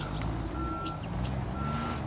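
A truck's reversing alarm in the construction video game Construction Simulator: regular repeating beeps over a steady low engine rumble, with no talk.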